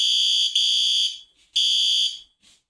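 A piercing, high-pitched fire alarm notification appliance, a System Sensor P2R, sounds in two long blasts, each followed by a short fainter chirp, nearby and loud.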